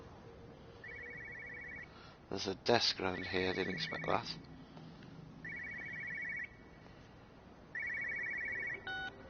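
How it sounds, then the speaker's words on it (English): An electronic phone rings in repeated short trills, separated by pauses, while a person speaks and a horse whinnies in between, in the video game Everybody's Gone to the Rapture. "I can hear a phone ringing."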